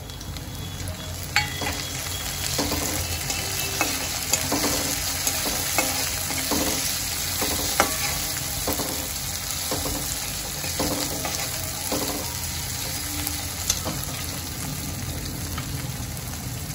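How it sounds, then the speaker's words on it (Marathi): Tomatoes fry in hot oil for upma with a soft, constant sizzle, while a spoon scrapes and taps the pan in a loose, repeated rhythm close by, with no speech. "याला मी 2 ते 3 मिनिटापर्यंत चांगलं परतून घेते तेलामध्ये"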